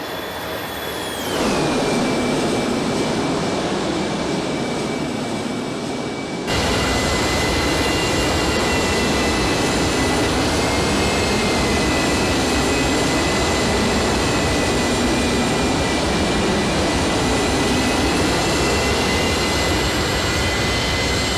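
Airbus A310 jet passing in a flyby in the X-Plane flight simulator, a steady loud roar with a high turbine whine that drops in pitch as it passes, then holds a sustained engine drone throughout.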